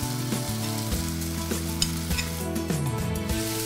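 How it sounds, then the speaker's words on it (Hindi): Boiled potatoes with turmeric are stirred into onions frying in a pan for poha. A steady close sizzle runs throughout, with repeated scraping stirs and small clinks of a spoon, and nobody talks. "हल्दी के साथ ही हम इसमें उबले हुए आलू भी मिक्स कर लेंगे"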